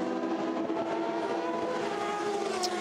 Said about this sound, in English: So there's the number 69 Ford comes in.